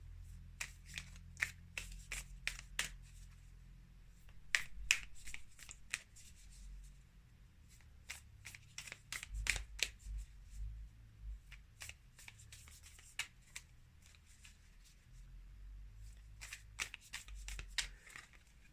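Tarot cards being shuffled by hand, close up, in quick bursts of crisp riffling and flicking with short pauses between, over a low steady background hum and no talking.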